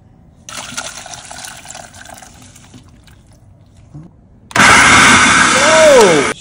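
A blender purees birria sauce mix, kicking in loud and close with a steady whirring roar whose pitch shifts as the motor works, after quieter kitchen sounds of running water.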